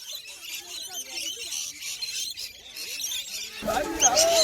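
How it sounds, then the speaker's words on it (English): Wild birds chirp and squeal during an afternoon feeding session at a holiday park in Cania Gorge, with scattered calls under people's voices that grow louder and busier near the end. "One of the best activities here is the 4:30 bird feeding."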